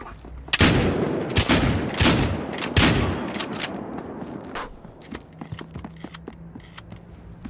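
Rapid pump-action shotgun blasts from a first-person multiplayer match in the video game Battlefield Hardline, several loud close shots in quick succession over the first three seconds, then softer scattered clicks and distant gunfire.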